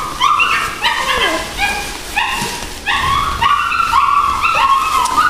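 Several young puppies from a litter yip and whimper in a steady, overlapping chorus of high-pitched cries, fairly close and continuous throughout, with no talking.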